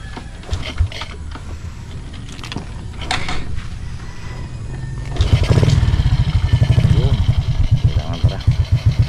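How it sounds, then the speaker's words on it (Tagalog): A motorcycle by Taal Lake cranks repeatedly without catching, a loud rhythmic chugging that follows several seconds of mechanical clicks and rattles close by. "Ay, ayaw yatang magpagamit itong motor na ito."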